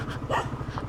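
A dog on a rough, untarred road yelps and whimpers in short bursts, near and fairly loud over a steady low engine hum.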